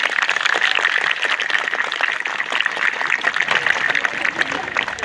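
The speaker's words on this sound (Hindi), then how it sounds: "इनका जोरदार तालियों से अभिनंदन करें।" An audience claps enthusiastically at a space knowledge model display event, dense continuous applause filling the whole stretch at a fairly close, loud level.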